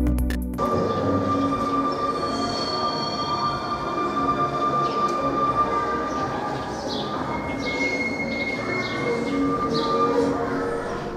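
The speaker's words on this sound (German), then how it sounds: "Von den historischen Straßenbahnen von Brandenburg war lediglich der Lowa-Triebwagen 42 im Einsatz." Historic Lowa railcar 42, a heritage tram running in Brandenburg, rolls past with a steady loud rumble, shrill wheel squeals and a high whine throughout, and no voices.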